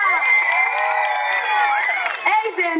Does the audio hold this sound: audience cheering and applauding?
yes